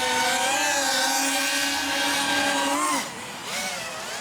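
An RCinpower GTS IV RC helicopter at full throttle gives a loud, steady high-pitched motor whine with rotor buzz, then the pitch drops sharply near the end and settles lower.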